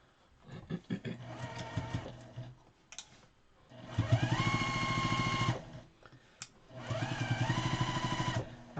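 A sewing machine stitches in the ditch along the seams of a quilt-as-you-go quilt block in three steady runs, each a loud, close, even whir separated by brief pauses and quiet handling.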